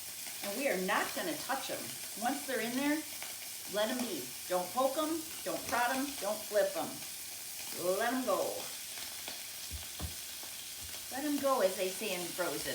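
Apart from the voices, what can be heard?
scallops searing and sizzling in a hot pan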